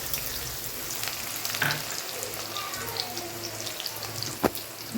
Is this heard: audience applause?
no